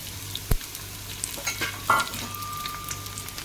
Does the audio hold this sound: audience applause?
no